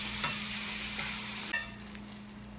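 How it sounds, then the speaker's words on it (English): Mushrooms and caramelized onions sizzling in Irish butter in a pan, a loud steady hiss with a hum beneath, then a stir and scattered crackles. "We're going to hit them with some of that good Irish butter."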